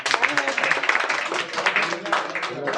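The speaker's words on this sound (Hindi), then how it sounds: "ताली बजा सकते हो आप लोग।" An audience claps at a gathering in Delhi, a quick burst of close, dense hand claps that keeps up for a few seconds under a murmur of voices.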